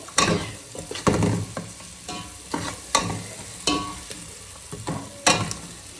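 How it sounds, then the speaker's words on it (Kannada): Tamarind juice goes into a pan of frying onion and garlic, raising a steady sizzle punctuated by a series of sharp stirring scrapes and knocks at irregular intervals, close and fairly loud. "ಇದು ಟ್ಯಾಮ್ರಿನ್ ಜ್ಯೂಸ್, ಹುಣಸೆ ಹುಳಿ ಹಾಕ್ತಿದ್ದೀವಿ."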